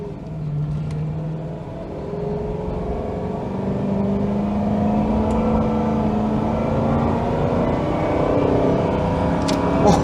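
A 2001 Ford Crown Victoria accelerating on the road, heard from inside the cabin as a smooth engine drone rising steadily in pitch over a constant road rumble.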